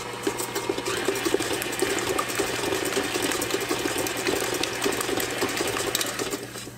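Kitchen appliance whizzing granulated white sugar, a steady loud mechanical whir with a gritty rattling texture, continuous throughout, no talking.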